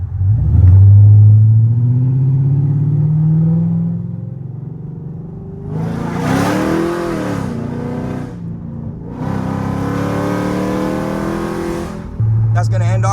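A modified Chrysler 300C with long tube headers rumbles and revs on back roads, engine tone rising and falling in surges while someone talks over it.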